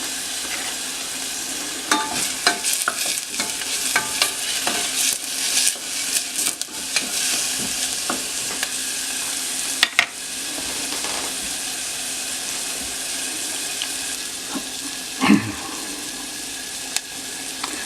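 Chopped onion and celery sizzle steadily in a hot pan, with scattered scraping stirs and clinks of a utensil against the pan throughout, ending with a brief louder scrape; no one speaks.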